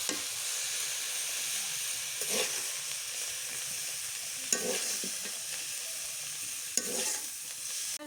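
Fried vegetables sizzle steadily in a pan in a village kitchen while being stirred, a continuous close hiss broken by several scraping stirs of the spatula, with no talking.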